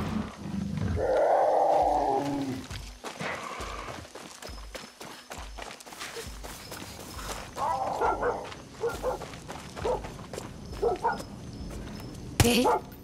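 A dog in the Far Cry 6 video game growls and snarls loudly, then gives scattered barks mixed with game sounds and footsteps.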